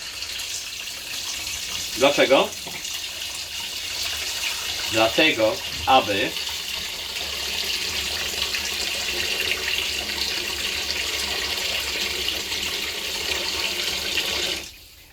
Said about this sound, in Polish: teraz w tym momencie szybko, bardzo szybko dajemy pod zimną wodę